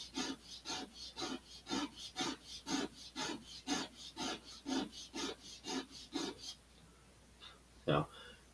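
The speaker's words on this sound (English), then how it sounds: "Sand this way." Wood being sanded by hand on parts of an Estes Black Brant XII model rocket: about fifteen close, even back-and-forth rasping strokes, then a short pause and one last scrape.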